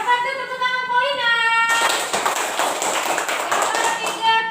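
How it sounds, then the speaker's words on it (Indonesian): Schoolchildren in an elementary classroom break into quick hand clapping right after an adult voice speaks, the claps close and busy, lasting a few seconds. "Tepuk tangan Paulina."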